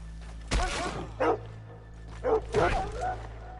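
A dog in Red Dead Redemption 2 gives a few short, close barks and yips separated by brief whimpering sounds, with a low rumbling game ambience underneath and no speech over it.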